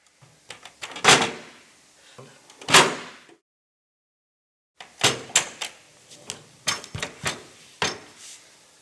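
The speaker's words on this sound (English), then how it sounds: "Then tilt the front section down until you hear a click." Folding frame of an Easi Go electric wheelchair being tilted and clicked together, a series of sharp metallic knocks and clacks in two bursts separated by a brief silence, close and distinct.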